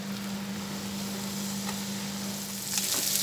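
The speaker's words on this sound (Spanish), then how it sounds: "Ya está cocinándose el pollo de un lado, le vamos a dar vuelta" Chicken sizzling and frying steadily in a pan, a continuous close hiss with a slight rise near the end, no voices.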